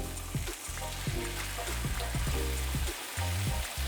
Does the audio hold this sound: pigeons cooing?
no